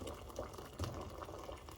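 Water is poured into a 5-litre pot for cooking rice, a steady close splashing and trickling that runs continuously at moderate level.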